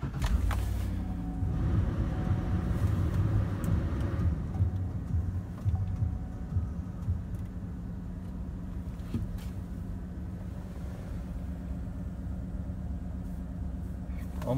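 A 2012 Cadillac Escalade AWD engine starts up with a loud low rumble that settles into a steady, even idle lasting over ten seconds.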